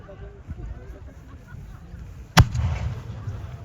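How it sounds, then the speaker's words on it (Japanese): A single loud, sharp firework shell bursts once at a traditional Fukushima festival with armored mounted warriors, releasing sacred flags, followed by a lingering rumble over a faint background murmur. "さあ第7発目の花火が打ち上げられました。"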